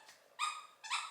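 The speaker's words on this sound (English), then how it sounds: "the dogs are playing with toys this morning." A dog playing with toys gives two short, high, tonal squeaks or yelps, close and fairly clear, with a quiet pause between them and nothing else over them.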